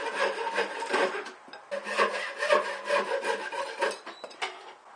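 Wooden glass supports for a homemade solar panel being sawn by hand, a close, steady rasping stroke repeated back and forth in quick succession with short pauses between bursts.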